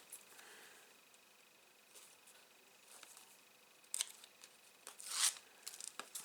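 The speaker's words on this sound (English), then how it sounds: "Remove the tape." Adhesive tape peeled off paper during album crafting: quiet room, then a couple of short crisp rips and a longer sticky tearing pull near the end, close to the microphone.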